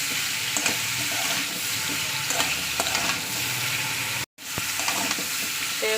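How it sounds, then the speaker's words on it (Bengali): Fish frying on a gas stove, a steady close sizzle with intermittent stirring scrapes and clinks, briefly cut off near the end before resuming, with no talk. "দুটো গ্যাসে দুটো বসিয়ে দিয়েছে, একদিকে মাছ ভাজা, একদিকে তরকারি।"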